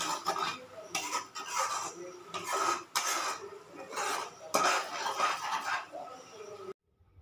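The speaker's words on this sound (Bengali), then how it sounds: "এবার এটাকেও মশলার সাথে মিশিয়ে নেব।" Masala with a little sugar and salt stirred in a pan for a paneer kofta curry. A spoon scrapes and clinks in repeated strokes, with some background noise, and the sound stops abruptly at the end.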